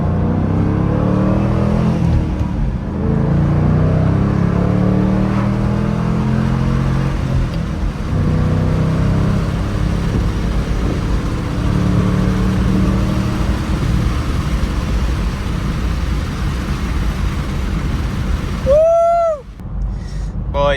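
A Ford Mustang GT accelerates hard from inside the cabin, with a loud, steady low engine drone building over about twenty seconds. A brief squeal sounds near the end.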